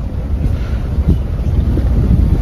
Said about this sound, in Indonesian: Ini tandanya lagi agak kuat ini anginnya. Lagi agak kuat alun ombaknya.